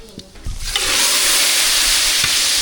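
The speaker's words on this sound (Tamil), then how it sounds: "சூடாகிட்டு கடுகு சேர்த்துக்கலாம் கடுகு நல்லா பிடிச்சிட்டு கருவேப்பிலை சேர்த்துக்கலாம்" Mustard seeds and curry leaves dropped into hot oil: after a few soft taps, a loud, close sizzle erupts and holds as a steady hiss.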